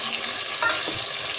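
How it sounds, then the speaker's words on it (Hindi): Masala of onion, two large tomatoes, salt, chilli and turmeric fries in a pan for okra, giving a steady close sizzle with faint stirring scrapes throughout and no talking. "अब इस मसाले को हमने अच्छा सा फ्राई करना है।"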